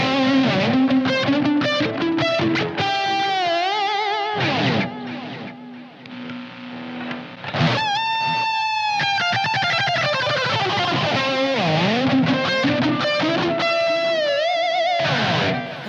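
Distorted electric guitar plays a few short licks through an amp and a Maxon OD808X overdrive pedal, with bends, sustained notes and brief pauses between phrases.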